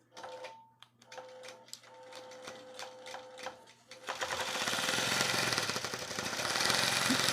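A longarm quilting machine stitching a quilt starts with sparse, evenly spaced mechanical clicks and a faint hum, then at about four seconds breaks into a loud, rapid, continuous rattling stitch that runs to the end.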